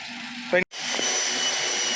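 A Toyota Yaris 1.2G with about 70,000 km runs under its open hood: a steady, close, broadband mechanical hum with a brief dropout, and someone speaks over it.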